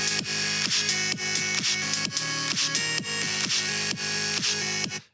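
A full, dense music track plays continuously with a steady driving kick drum beat under layered synths and percussion, loud throughout until it stops abruptly.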